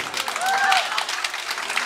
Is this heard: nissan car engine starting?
no